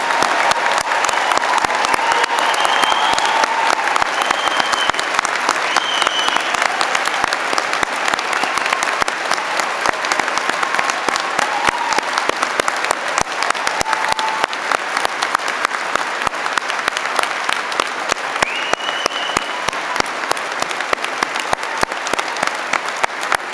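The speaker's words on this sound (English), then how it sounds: "let us pause and give a thunderous round of applause to celebrate the remarkable achievements of our graduates today" Sustained applause fills a graduation ceremony hall, a dense, even clatter of many hands clapping steadily throughout with faint crowd murmur beneath and no pause.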